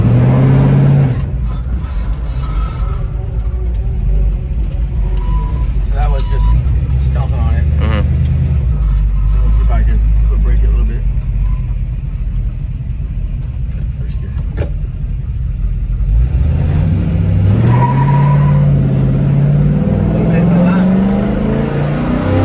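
A Ford 302 V8 car doing a burnout, its engine loud and close, droning and revving with rising pitch sweeps, while people talk over the roar.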